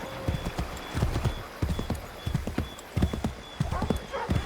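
Hooves of a horse galloping in Assassin's Creed 3 pound in a quick, steady clip-clop, loud and close, with game voices calling out over the rhythm.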